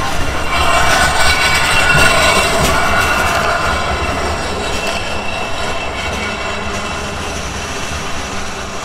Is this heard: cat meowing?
no